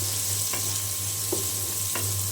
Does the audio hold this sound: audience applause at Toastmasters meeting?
no